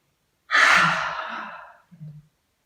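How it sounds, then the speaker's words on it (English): A single long breath out through the mouth during a yoga class, a loud airy exhale lasting over a second that trails off, followed by a brief softer breath. "Breathe out through the mouth"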